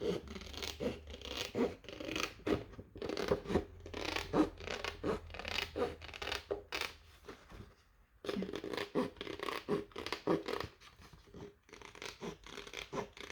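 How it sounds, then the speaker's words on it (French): Scissors cut through a paper card for a handmade Christmas bauble card, a run of close, crisp snipping and scratching strokes with a brief pause partway through. "Et là, je vais venir découper."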